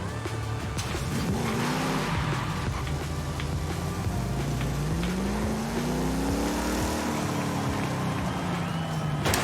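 A video game car in Forza Horizon 5 drives along with a continuous engine drone whose pitch rises and falls with shifts and throttle, steady and fairly quiet throughout.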